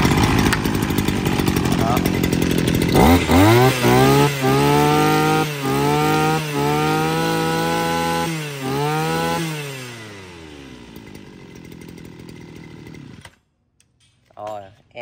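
A gasoline chainsaw offered at a clearance sale is pull-started and revs loudly for about ten seconds, its pitch rising and falling with throttle blips before winding down; someone speaks briefly near the end.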